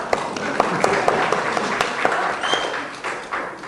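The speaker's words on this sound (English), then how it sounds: "Okay, let us all clap." Applause from the audience at a Chandrayaan-3 press conference, a steady, fairly close patter of many hands clapping with a few sharper claps standing out, and some faint voices mixed in.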